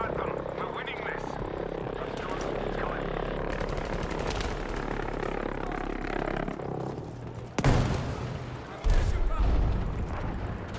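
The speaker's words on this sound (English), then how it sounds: "Requesting a JB-2 airstrike at this position." In the Battlefield V video game, a JB-2 airstrike arrives as a steady roar of engines and battlefield noise, broken near the end by two heavy booming impacts, with voices calling out over the din.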